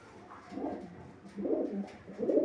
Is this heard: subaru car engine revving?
no